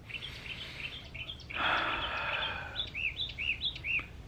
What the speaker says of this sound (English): come home and bask in the bird noises